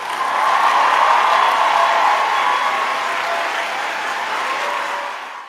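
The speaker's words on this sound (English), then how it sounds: "I'm going to give you a round of applause." Sustained audience applause from a crowd on a talk show, steady and fairly loud throughout, easing off slightly toward the end with no one speaking over it.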